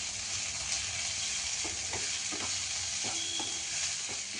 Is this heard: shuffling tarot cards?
no